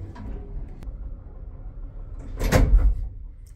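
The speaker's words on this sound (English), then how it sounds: "Pull it and close it like this. Then close these two small doors." Small metal doors of an old elevator in an apartment building are pushed shut, with quiet shuffling and then a loud clattering bang near the end, followed by a brief rattle.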